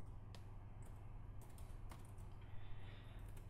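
Command typed on a computer keyboard while working in R, a quick run of soft close key clicks, alone and without speech.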